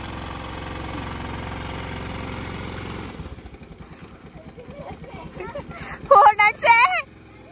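A vehicle engine runs at a steady idle, then the tone drops and roughens as it shifts, while a voice speaks briefly over it near the end.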